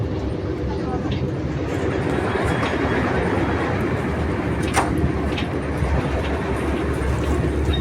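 Steady rumble of an overnight passenger train running from Cairo to Aswan beside the Nile, heard from inside the carriage, with continuous low wheel and track noise and faint rattles throughout.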